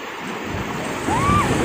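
Ocean waves roll onto the sand at Golden Beach in Puri, a loud, close rushing wash with wind buffeting that swells near the end, and a brief voice-like sound rises over it.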